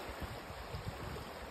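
Krishna river water rushes fast and deep through the Buckingham Canal near a railway bridge, a dense continuous wash of flowing water, fairly faint and steady, with no voices.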